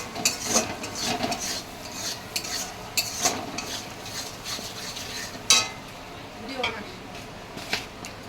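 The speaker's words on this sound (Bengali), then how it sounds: "এবার ভালো করে নেড়ে চেড়ে নেব।" Spices and turmeric stirred in a pan, a utensil scraping and clinking in a steady rhythm over a light sizzle, close and fairly loud, with occasional speech.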